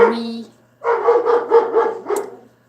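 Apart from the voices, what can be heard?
dog barking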